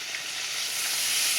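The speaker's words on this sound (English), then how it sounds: "it's been frying for about 5 minutes on this side," Chicken frying in grease that has been going about five minutes on one side, giving a steady, close, bright sizzle with crackling that holds even throughout, with no voices.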